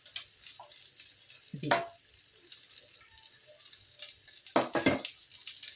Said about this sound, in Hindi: देखो हम बारीक गैस पे भून रहे हैं, हाँ नहीं तो जलेगा